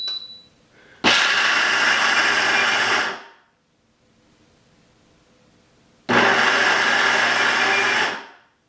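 An AICOOK professional blender grinds peanuts on its nut butter program: two loud, steady motor runs of about two seconds each, each fading out, separated by a quiet pause, with a short beep at the start.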